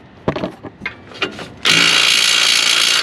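A few sharp clicking ratchet strokes tighten a bolt on a Pontiac G8 suspension, followed by a loud sustained whir of a weak impact or power tool running close by.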